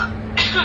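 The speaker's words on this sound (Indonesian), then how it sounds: "Aku batuk nih, ganggu nih dari kemarin malam" A single short, rough throat-clearing cough bursts out close by, lasting well under a second.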